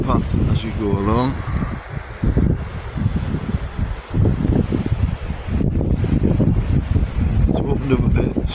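Wind buffeting a phone microphone on a riverside path, a constant rough rumble and roar throughout, with someone talking over it.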